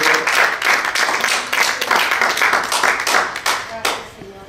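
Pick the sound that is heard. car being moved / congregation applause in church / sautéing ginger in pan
congregation applause in church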